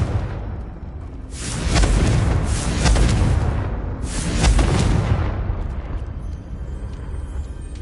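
A Confringo blasting spell in Hogwarts Legacy bursts twice in quick succession, each a loud, crackling boom with a long roaring tail, followed by quieter ambient game sound.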